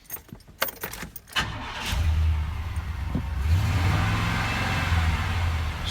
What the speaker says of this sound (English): I'm going to start the truck up and try it out